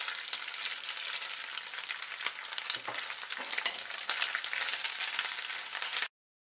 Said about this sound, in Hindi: अब मैं इसमें डाल रही हूँ सोयाबीन चंक्स और इसे हम ब्राउन होने तक भून के तैयार करेंगे।